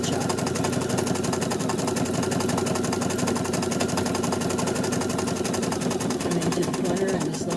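Sewing machine stitching continuously at a steady, fast rhythmic clatter, loud and close, running without pause throughout.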